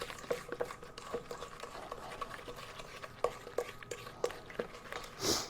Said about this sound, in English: now we've got to stir this